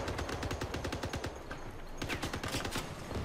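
Rapid bursts of gunfire in the vehicle-combat game Crossout, aimed at a burning car, with dense overlapping shots continuing steadily and loudly throughout.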